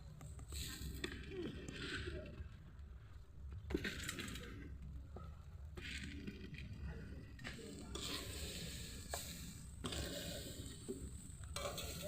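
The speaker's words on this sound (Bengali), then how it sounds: "চালে ডালে ভাজা হয়ে গেছে" Rice and lentils fry in a pan for khichuri with steady sizzling and repeated stirring scrapes, quiet and close, and soft talk is faintly present.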